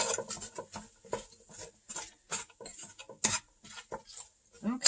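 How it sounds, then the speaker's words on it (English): Vegetables and greens being stirred in a pot during meal prep: irregular scraping and clinking of a utensil against the pot, soft and close, in uneven strokes with quiet gaps between. "Let me stir it around a little bit"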